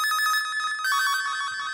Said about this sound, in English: you get a dub siren or a small and cheap synthesizer